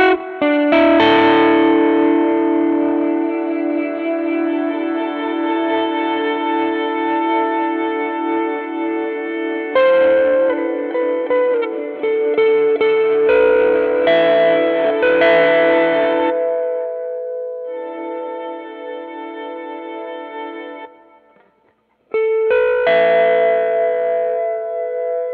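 Electric guitar through a Chase Bliss MOOD pedal: sustained, warbling chords smeared with echo and reverb, dropping out briefly near the end before swelling back in, with no voices.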